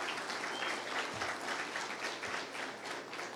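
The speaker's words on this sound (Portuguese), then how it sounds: "uma salva de palmas para o Chu" Audience applause at a technical infrastructure seminar, a moderate, steady wash of many hands clapping, heard fairly distant and lasting throughout.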